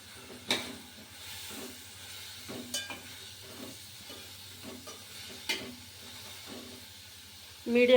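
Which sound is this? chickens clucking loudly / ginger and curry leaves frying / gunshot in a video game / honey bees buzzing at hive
ginger and curry leaves frying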